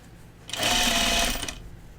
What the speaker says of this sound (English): we're going to just turn it under and edge stitch it down